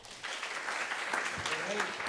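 Scattered applause at a school board meeting following a new hire announcement, moderate clapping with a voice speaking over it partway through.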